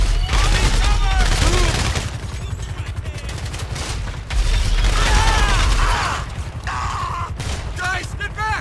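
Rapid gunfire bursts in GTA 5 during a police versus bodyguard shootout, loud rattling volleys with mechanical clacks and pauses between them, with voices shouting over the fighting.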